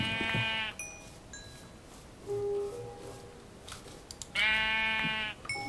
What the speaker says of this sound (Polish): Widzę już owce.